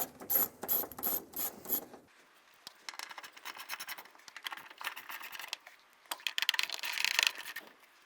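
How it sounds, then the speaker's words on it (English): A ratchet with an 8mm socket removes the lock ring screws on a 2003-2007 Infiniti G35 fuel pump, giving rapid close clicking in several bursts, with quieter scraping between them and no voices. "Using an 8mm socket, we're going to remove the screws out of the lock ring."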